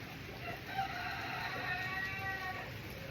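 A rooster crows in the midst of a backyard chicken flock, a faint, steady call heard at a distance beneath soft clucking and low ambient noise, with no voices.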